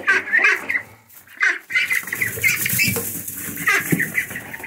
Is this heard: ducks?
yes